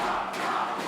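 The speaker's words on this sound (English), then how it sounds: "The crowd is going wild." Arena crowd at a North American esports tournament, a Vainglory match at the NA VGL Autumn Finals, roaring and cheering in a dense, continuous wash of sound for under a second.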